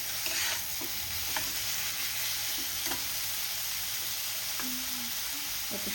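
Ridge gourd stir-fried in a pan with a little sugar, salt and spice: a continuous even sizzle with occasional soft spatula scrapes, close and alone without voices.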